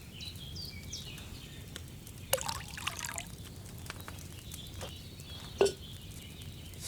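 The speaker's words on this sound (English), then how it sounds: "So, what did you pour in there? Wine, of course." Wine is poured into a cauldron in the video game Kingdom Come Deliverance 2, heard as a soft trickling pour amid quiet ambient room noise, ending with a sharper splash near the end.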